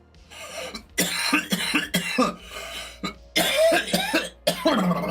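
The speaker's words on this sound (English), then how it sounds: "Did you cough when you had COVID?" Several harsh coughs come in clusters, loud and close, with short pauses between bursts and some throat clearing.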